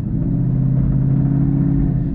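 A 2019 twin turbo Mustang engine revs with no two-step engaged, a loud steady low rumble held throughout at close range.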